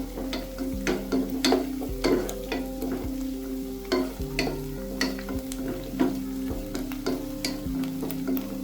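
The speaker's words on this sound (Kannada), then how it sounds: "ಇದನ್ನು ಚೆನ್ನಾಗಿ ಫ್ರೈ ಮಾಡ್ಕೊಳ್ಳೋಣ" Green chillies, slit lengthwise, fry in hot oil for a mutton pepper fry, with a steady sizzle broken by repeated sharp clinks and scrapes of a spatula stirring the pan, close up and with no talk.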